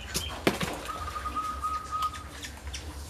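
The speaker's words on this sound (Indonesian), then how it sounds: "Ini suara burung." Birds are heard nearby, with short chirps, a sharp flutter-like burst and a sustained thin whistling call in the middle, fairly faint over a quiet indoor background.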